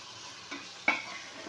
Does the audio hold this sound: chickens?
no